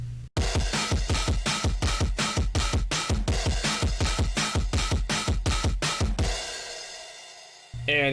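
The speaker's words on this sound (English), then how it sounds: "some digital distortion to kind of make them sound 8-bit" Kong drum patch run through digital distortion to sound 8-bit: a rapid, driving pattern of crunchy, gritty hits, loud and dense, ending in a long ringing cymbal tail.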